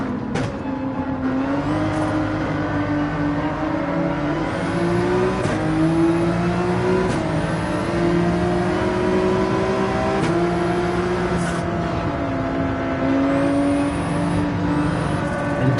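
Race car engine in Gran Turismo 7 holding a steady, loud drone as it powers out of a corner, pitch rising and falling gently with throttle over a continuous rumble, no talk.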